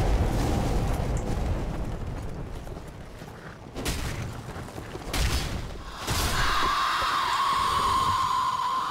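Roaring whooshes from an enemy breathing flames in Dark Souls 3, Ashes of Ariandel, a broad rushing blast that fades, then several short gusts, followed by a sustained hissing roar with a ringing tone, loud and without talk.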